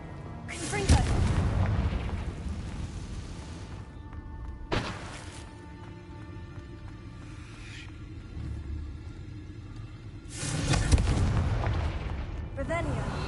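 Confringo fire spell blasts in the Hogwarts Legacy video game, two heavy booming explosions several seconds apart with a rumbling tail, plus a smaller thud between them, over a steady game background.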